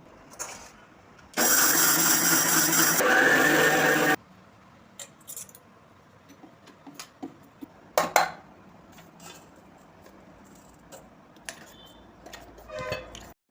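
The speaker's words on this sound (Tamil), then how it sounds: "மிக்சிலே நம்ம மாவை அரைச்சி எடுத்துக்கிட்டோம்" A mixer grinder grinding raw rice into flour in a home kitchen, a loud steady whirring burst of about three seconds, followed by scattered clinks and knocks of the jar and utensils.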